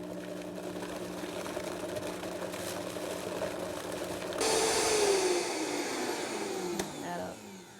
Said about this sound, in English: I'm using today a Vitamix blender. It's a very high-powered blender.